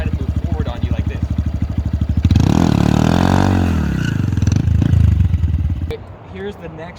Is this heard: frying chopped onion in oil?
no